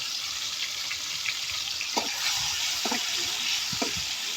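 A paste of ground onion, garlic, cumin and spices sizzles steadily in hot oil, a constant close frying hiss with a few soft scraping stirs, and no voices.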